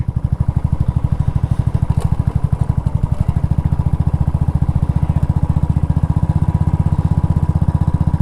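A motorcycle engine chugs close by in a rapid, even single-cylinder thump that holds steady for several seconds at a parking area near a hill peak in Chikkamagaluru.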